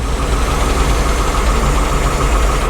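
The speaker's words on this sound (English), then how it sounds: "I got to run this little backhoe piece. I got to lower it down a little bit" A 1975 Ford 550 backhoe's engine runs at a steady, loud, close idle with a rough knocking rumble as the arm is lowered, with no pause in the sound.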